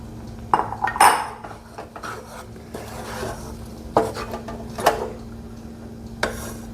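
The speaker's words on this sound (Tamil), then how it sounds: "கட்டிப்படாமல் கலந்துக்கிட்டே இருங்க, சிம்மில் வச்சு" Ground laddu flour being stirred in a pan over a low flame, soft scraping of a spoon against the pan broken by a few sharp metallic clinks, close and unhurried with no talk.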